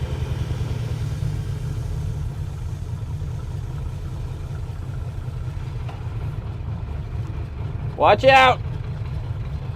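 An old Plymouth car engine, running again after sitting for 30 years, rumbles and idles steadily and close by, with a brief burst of shouting near the end.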